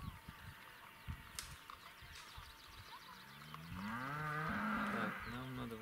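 A dairy cow lets out a long, low moo, rising and wavering, after scattered thumps and rustling outdoors at a village pasture; the call sounds fairly close.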